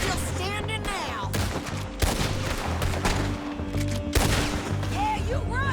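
Gunfire from Red Dead Redemption 2 during a shootout, with repeated loud shots over a continuous noisy background of game music and effects, and voices speaking at times.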